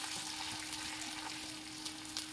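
Dried red chillies, green chillies, garlic, onion and curry leaves frying in a pan, a faint, even sizzling hiss with a steady background hum and no talk.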